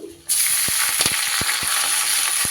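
Dried red chillies and black mustard seeds hit hot oil with a sudden loud sizzle that continues steadily, punctuated by several sharp pops and crackles of seeds spitting, with no one talking.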